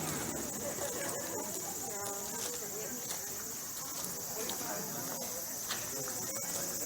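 Steady, high-pitched cicada chirring in Kawagoe, Japan fills the background throughout, with faint voices and rustling underneath.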